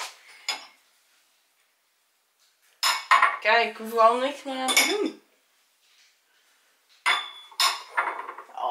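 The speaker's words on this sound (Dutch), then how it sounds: "Oh, dan is het een snelle afwas." Dishes being washed after a holiday meal: pots, pans and cutlery clink and clatter in short bursts close by, separated by quiet gaps, with a person speaking between them.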